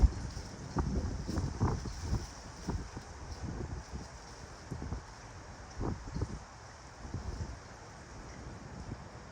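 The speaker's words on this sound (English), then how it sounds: "Right now the wind is blowing and yeah, I'm having issues trying to block the wind." Wind blows hard outdoors around a small camp cooking stove with a nonstick skillet, heard as a steady rushing roar with repeated gusty buffets against the microphone, no voices.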